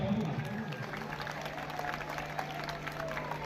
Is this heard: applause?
yes